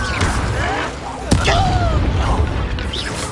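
An Incendio fire spell is cast in Hogwarts Legacy with a sudden sharp burst and whoosh near the middle, set amid game effects and a speaking voice.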